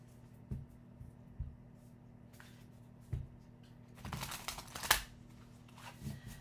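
Playing cards are shuffled close by, with soft riffles and taps spread over a quiet background and a denser burst of rapid flicking near the end, with no speech.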